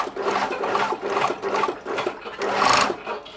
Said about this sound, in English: I'm sewing along to the edge of the neck